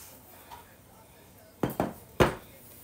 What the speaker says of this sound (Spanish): Yo aquí tengo ya mi repollo ya partidito y lo voy a agregar aquí junto con la zanahoria.